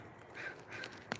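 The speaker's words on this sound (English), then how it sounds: "You probably hear the crows crowing." Faint, distant cawing from crows, a couple of short harsh calls against quiet backyard garden background noise.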